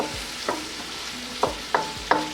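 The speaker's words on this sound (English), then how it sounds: "So I'll let this cook till the tomatoes are a bit soft." Tomatoes soften in a pan for a vegetable jalfrezi, giving a soft steady sizzle broken by a few sharp utensil clicks and scrapes against the pan. No one speaks.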